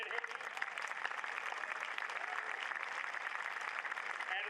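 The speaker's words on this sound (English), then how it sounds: "Let's clap it in." Steady audience clapping at a 2023 induction ceremony in Newport, a continuous even wash of applause throughout.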